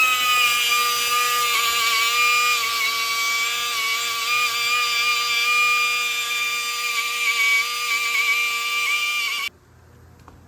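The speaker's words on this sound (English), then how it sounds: "I just use this roll-lock cookie. Goes on a grinder." A grinder fitted with a roll-lock disc whines steadily as it strips rust from a 2007-2011 Honda CR-V front brake rotor, a loud high-pitched grinding that runs for about nine seconds before cutting off abruptly.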